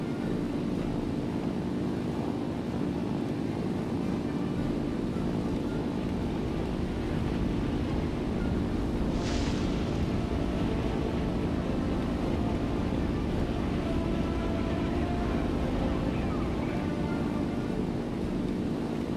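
A propeller aircraft engine drones in the IL-2 flight simulator game, a constant loud, dense roar that holds steady throughout, with a brief higher whoosh midway and no talking.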